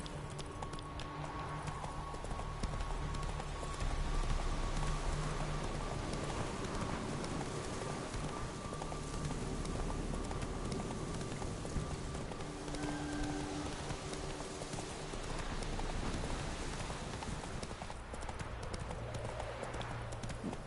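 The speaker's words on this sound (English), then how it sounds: "Where's my trusty horse?" Horse hooves clip-clop steadily in the rain in the video game Witcher 3, a continuous rhythmic trot over a constant wash of rainfall and ambient game sound, with no talking.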